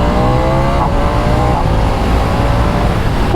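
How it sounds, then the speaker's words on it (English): A Ducati Diavel V4 motorcycle pulls hard in second gear, its engine roaring loud and steady with rising pitch and heavy wind noise throughout. "Let's try second gear pull."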